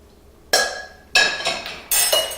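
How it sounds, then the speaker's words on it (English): Cooked squash being pulled into a bowl with a utensil, giving three or four sharp, clinking scrapes against the bowl, each fading quickly with short pauses between them. "just pull the squash into the bowl"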